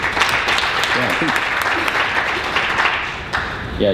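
Applause from a conference audience after a panel talk on climate adaptation, dense clapping that carries on steadily and eases slightly toward the end, with brief bits of voices mixed in.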